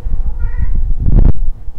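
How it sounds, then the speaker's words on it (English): A cat meows once, a close, loud drawn-out cry that rises and ends in a sharp strained burst. "Kitty cat!"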